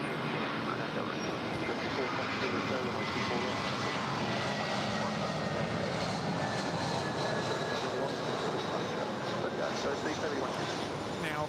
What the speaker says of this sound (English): Now coming in from San Francisco, this is United Airlines flight 2014. It's a 20-year-old Airbus A320.